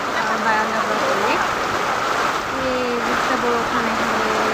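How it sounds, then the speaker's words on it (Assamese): Heavy rain falls outside a veranda on a windy day, a steady broadband wash of water with tonal sounds drifting over it, continuous and fairly close. "বহুত জোৰছে বৰষুণ আহিলে আজি বিশ্বকৰ্মা পূজা দিনাখন।"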